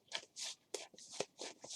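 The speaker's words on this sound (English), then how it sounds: "these are a little harder to shuffle because there's not a lot of them" A small deck of playing cards is shuffled by hand, giving several quick, crisp riffling and snapping bursts in an uneven rhythm, close and fairly faint.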